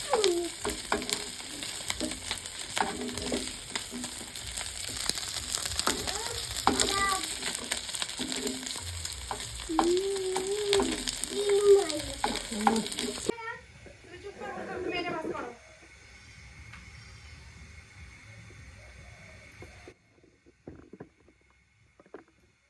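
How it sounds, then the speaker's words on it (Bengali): Food sizzles and fries steadily in a pan through the first half, with a broad crackling hiss under people talking at home, then the frying fades as the talk continues more quietly. "যেগুলো বেশি ভাজা হচ্ছে ওগুলো নামায় ফেলো"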